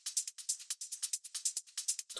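Trance percussion loop with bright, crisp high end: a steady, even pattern of short hissy hits repeating about every eighth of a second, moderately loud and alone.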